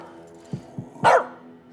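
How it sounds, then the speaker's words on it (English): In the video game As Dusk Falls, a dog gives a few soft muffled huffs and then one louder, sharper bark at close range against a quiet ambient background. "Keep that dog quiet."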